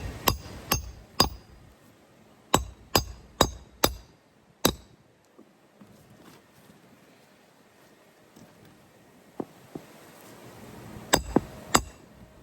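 Sharp hammer strikes drive nails into a wooden crate, clustered bursts of loud ringing blows near the start and again near the end, with quieter taps and room noise between.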